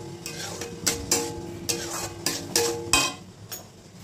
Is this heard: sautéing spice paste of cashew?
yes